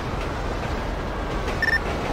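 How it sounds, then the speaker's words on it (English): Runaway train rolling driverless through GTA 5: a steady, loud rumble and rattle with no let-up, plus a brief thin metallic whine near the end. "The train's run away."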